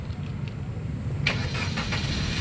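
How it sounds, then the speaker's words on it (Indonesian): A 2013 Suzuki Ertiga 1.4 GX with manual transmission starts up, a short cranking burst catching into a running engine about halfway through, heard close and fairly quiet. "Coba kita nyalakan mobil."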